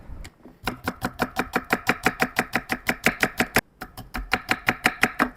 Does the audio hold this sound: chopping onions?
yes